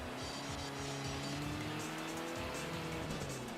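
A race car in the Assetto Corsa racing game brakes hard, its engine droning steadily while the tires squeal continuously through the corner, with no voices.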